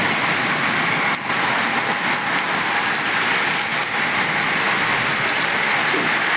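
Monsoon rain falls steadily with wind, a dense continuous wash of drops spread evenly across the whole stretch with no speech. A shed sits nearby in a rural farming setting at the start of the sowing season.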